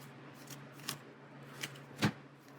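A deck of cards for the Aeons End board game is shuffled in a few quick, soft riffling bursts. They are faint and close, with brief pauses between, in an otherwise quiet room.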